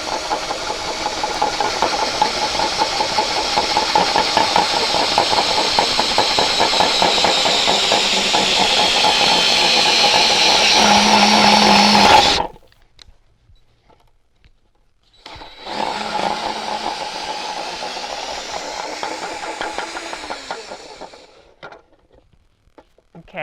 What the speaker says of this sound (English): now we're going to start drilling into it